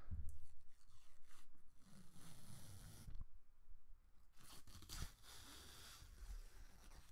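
Protective film is peeled off a curved LG G Flex phone, making a continuous crackly tearing sound close to the mic with a few brief pauses and sharper snaps.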